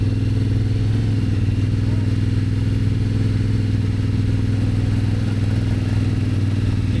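An adventure motorcycle at a riding training weekend, its engine running at a steady, low rumble throughout, close and constant with no clear revving.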